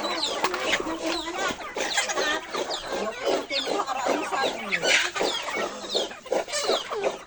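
Many chickens clucking and squawking together nearby, a busy, continuous flock chatter with overlapping calls.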